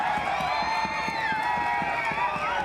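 A crowd cheers at an India vs Italy women's hockey World Cup qualifier semi-final, a loud continuous roar of voices with whistles and rising shouts, steady and dense throughout.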